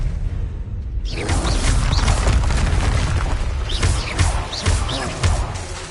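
A Confringo fire spell in Hogwarts Legacy goes off as a sudden loud blast followed by roaring, crackling bursts and whooshing impacts that keep coming in quick succession.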